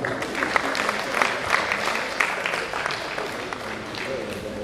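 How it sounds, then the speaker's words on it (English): A conference audience gives a round of applause at a plenary session, a steady, moderately loud patter of many hands with some sharper individual claps standing out. "So another round of applause for Mama."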